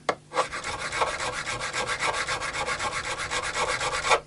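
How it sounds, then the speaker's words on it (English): Guitar frets on a Rally GL200 are sanded with fine sandpaper in quick, steady back-and-forth strokes, a close rhythmic rasping heard alone without talk. "we're then going to sand it down with progressively fine sandpapers until it's playing smooth"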